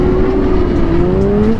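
A motorcycle engine revs steadily as the rider pops a small wheelie, its tone rising smoothly under a constant loud drone, close by, with no talk.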